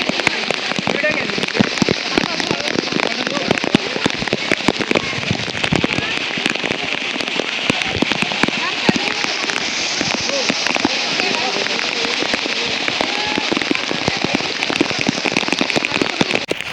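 Heavy monsoon downpour on Raigad fort in mist, a loud, dense, continuous roar of rain with sharp crackling drop impacts close by, steady throughout with no clear speech.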